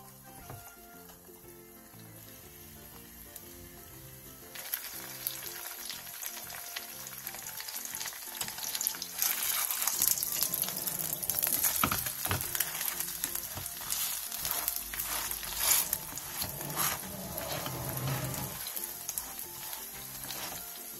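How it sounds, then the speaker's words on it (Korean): Napa cabbage pancake fries in oil in a pan over medium-low heat, a continuous crackling sizzle that swells louder after a few seconds and keeps popping steadily without talk. "팬에 기름을 두른 뒤 배추를 올려 중약불에서 앞뒤로 노릇노릇하게 부쳐주세요"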